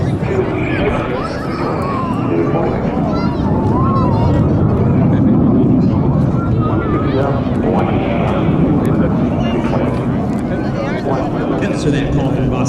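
A US Navy Blue Angels jet slows to land at an air show, its broad roar sustained throughout while an announcer talks over it.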